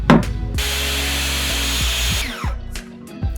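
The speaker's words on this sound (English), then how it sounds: "I'm going to use my track saw" A track saw plunges a slot halfway into 3/4 inch cabinet material, a loud steady whine held for about two seconds before spinning down, with short tool bursts at either end.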